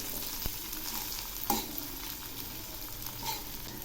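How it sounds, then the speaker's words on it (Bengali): A dried red chili and three green chilies fry in a pan, giving a soft, low sizzle with a couple of sharp clicks from stirring. "এবার আমি এর মধ্যে দিচ্ছি একটা শুকনো লঙ্কা, আর দিচ্ছি 3টে কাঁচা লঙ্কা। এই কাঁচা লঙ্কাগুলো এর সঙ্গে ভেজে নেব।"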